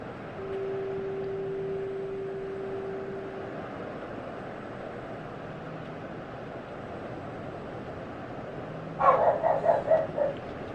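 Dogs at home let out a quick burst of several sharp barks near the end, clustered closely together after a long stretch of quiet room tone with a faint steady tone early on.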